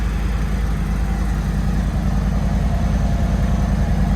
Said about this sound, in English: But pretty nice running bike. Sounds really clean and healthy for the most part.